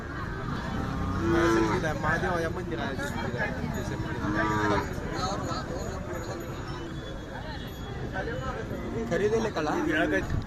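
Bulls and cattle at the Kartiki Yatra fair in Pandharpur low briefly among steady crowd noise, with nearby voices talking over the busy, continuous background throughout.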